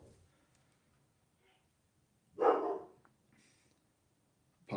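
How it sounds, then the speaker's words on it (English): A dog indoors barks once at something outside, a short moderately loud bark set against a quiet room, followed near the end by the start of another bark. "My dog is barking at something outside."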